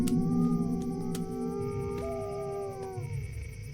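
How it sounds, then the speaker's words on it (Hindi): A dog howls at night in a village, several long wavering cries with sliding pitch, fairly near and loud over a steady background of rumble and low noise. "ये कुत्ता ऐसे क्यों रो रहा है"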